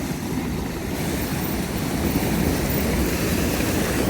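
Rushing floodwater surges through the LA River during a storm, a steady, loud broadband roar of churning water and wind buffeting close by, constant throughout with no voices.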